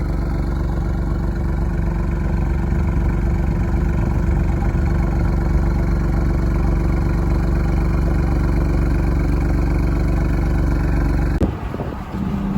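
A 2020 Alfa Romeo Stelvio Quadrifoglio idles close by with a steady, dense engine rumble that holds level for about eleven seconds before cutting off abruptly near the end.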